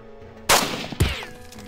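A single loud gunshot in Jagged Alliance 2 with the 1.13 mod, a sharp broadband crack followed by a second heavier report about half a second later, each with a short decaying tail and no talking.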